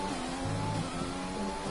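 A Formula 1 car engine in a racing video game, on a hot lap at the Canada circuit, gives a brief, steady, high revving drone with tonal harmonics that holds even across the short moment.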